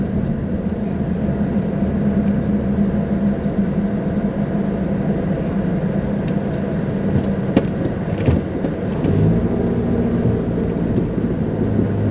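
A car drives around a small town's downtown in East Troy, Wisconsin, heard from inside as a steady engine and road hum with a few passing clicks and shifts, no talking.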